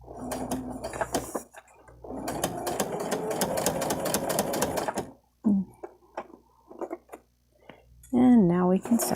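Sewing machine fitted with an invisible zipper presser foot runs in two bursts, a short one and a longer steady whir of several seconds, close and moderately loud, followed by quiet handling clicks and a brief voice.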